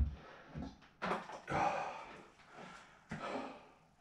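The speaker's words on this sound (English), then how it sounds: "Try and get that breathing down." Heavy, ragged breathing after a rucksack workout: several loud, close gasping inhales and exhales in uneven bursts with short pauses between them, with no speech.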